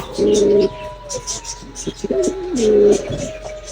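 Two rounds of soft, low cooing from a pair of doves nesting on four eggs, each phrase a steady hooting note, close by and moderately loud, with faint chirps and light background noise between calls.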